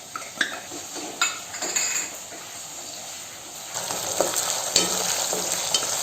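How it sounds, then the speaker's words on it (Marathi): Onion frying in butter with ginger garlic paste added for pav bhaji, a steady sizzle broken by spoon scrapes and clinks against the pan, close and moderately loud with no speech. "आता आपला कांदा चांगला फ्राय व्हायला आलाय. त्याच्यामध्ये ही आलं लसूणची पेस्ट टाकते."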